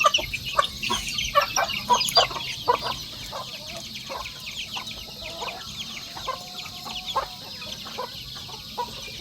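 Chickens cluck repeatedly in quick, uneven bursts nearby, a busy flock sound that softens toward the end.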